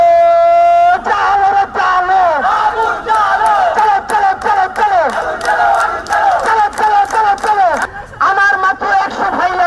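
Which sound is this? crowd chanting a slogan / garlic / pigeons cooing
crowd chanting a slogan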